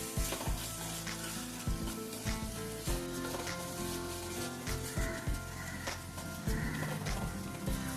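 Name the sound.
onions sautéing with salt in a pan for fish curry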